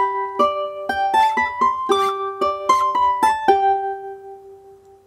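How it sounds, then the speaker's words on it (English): Charango, a 10-string South American lute, from a sampled World Suite 2 instrument, playing a quick run of bright plucked and strummed notes, with the last note ringing out and fading. No other sound accompanies it. "I've loaded a charango, which is a 10-string lute instrument from South America."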